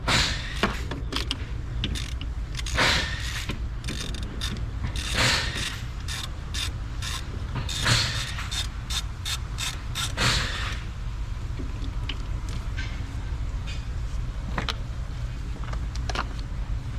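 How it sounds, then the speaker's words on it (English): Ratchet handle with a 10mm socket clicking as it loosens AC line nuts at the compressor of a Hyundai Sonata, steady rapid ratcheting in bursts with pauses, close and clear, no talking. "this is the tool I use, wrench, a ratchet handle with a 10mm socket"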